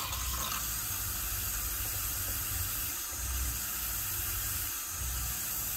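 Water from a pump rushing steadily out of a travel trailer's bathroom sink faucet, a constant close hiss with a low pump rumble pulsing underneath.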